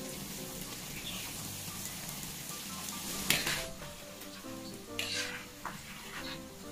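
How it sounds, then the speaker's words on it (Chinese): Pieces of guoba, crisp rice cakes, deep-fry in moderately hot oil in a wok, giving a steady sizzle and bubbling with a few sharper crackles and stirring clatters near the middle and end. "先下一块锅巴，它很快就浮起来了"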